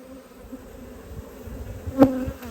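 Honey bees buzz in a steady, close hum around a brood frame lifted from a red hive, with one brief louder tap or knock near the end.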